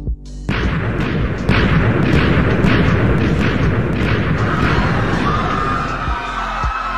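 Cannons firing in Minecraft: a dense, loud barrage of booming blasts and sharp cracks stacking over each other for several seconds, with a steady rumbling roar underneath.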